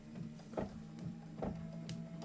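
A computerized embroidery machine stitches a satin outline on a quilt-block sweater design, giving off a soft, steady mechanical whir with regular rhythmic thumps of the needle, fairly quiet and close.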